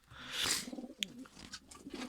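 Pigeons coo softly in a pigeon loft, a faint, low, rolling series of coos with a few brief sharper clicks and rustles close by.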